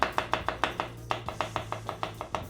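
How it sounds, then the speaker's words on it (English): A knife chopping red onion and garlic on a board, a quick even run of about a dozen sharp taps close up, with no talk. "Okay, we chopped 2 cloves of garlic, 1 red onion."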